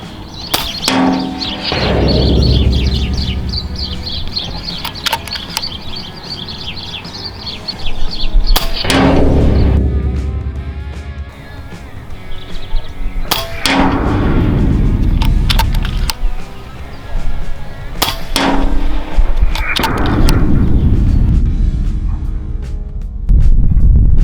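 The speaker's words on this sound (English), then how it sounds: "Now I'm going to fire some rounds at this target." An FX Dreamline .22 air rifle fires slugs at a target outdoors, giving four sharp, loud cracks several seconds apart, each followed by a short ringing decay and handling noise between shots.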